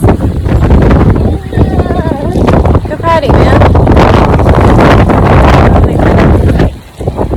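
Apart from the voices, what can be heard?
gusty wind on microphone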